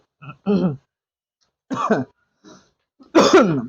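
Several short coughs and throat-clearing bursts, triggered by black pepper in chicken stew, come in quick separate bursts with silence between, close to the microphone, with no talking.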